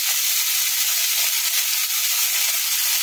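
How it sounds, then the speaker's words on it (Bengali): Bottle gourd leaves fry in a pan, giving a steady, loud, broadband sizzle that holds evenly throughout with no talking. "এটাকে আমি খুব ভালো ভাজা করে নেবো"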